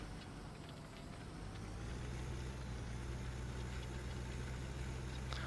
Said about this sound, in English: did the tractor just change its tone for some reason? Engine note, I should say.